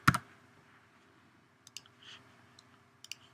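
Typing on a computer keyboard during web design work: one sharp key click at the start, then a few light, scattered keystrokes close by, with no talking.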